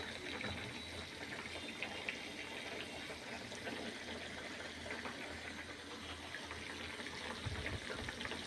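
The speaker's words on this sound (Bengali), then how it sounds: "তো এই তো আমার মাছ রান্না হইতেছে।" Fish sizzles and crackles quietly in a pan on a home stove, a soft steady hiss with scattered pops that runs without a break.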